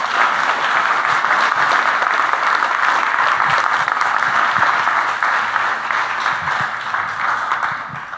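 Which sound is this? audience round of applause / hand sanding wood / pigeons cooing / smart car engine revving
audience round of applause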